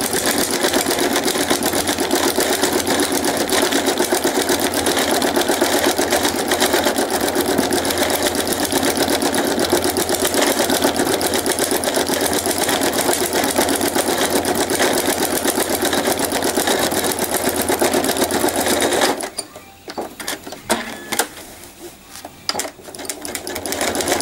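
A sewing machine adds quilting detail, running steadily and loudly for a long stretch, then stopping and restarting in short uneven bursts.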